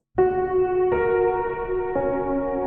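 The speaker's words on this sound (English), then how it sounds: "So if I turn this control off, you'll hear a more immediate reverb signal." Sustained chords on a sampled vintage upright piano, three in succession, each ringing with a close, bright reverb wash that blends the notes together, moderately loud and alone.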